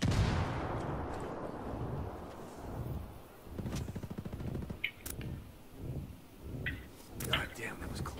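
Gunfire in the video game Ghost Recon Wildlands: bursts of sharp shots crackle in uneven clusters under frantic talk, with several louder cracks standing out near the middle and end.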